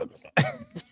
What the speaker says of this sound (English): Clear your throat.